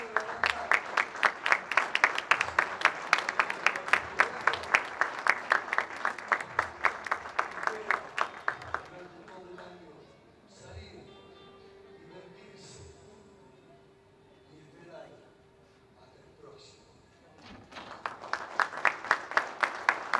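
A crowd applauds at a ceremony proclaiming new municipal authorities, a long burst of steady clapping that dies down into a quiet hall with a brief voice, then swells again near the end.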